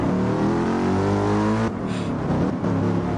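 Race car engines in Gran Turismo Sport during an online championship race at Interlagos, a loud sustained engine drone with a dip around the middle before resuming, no talk.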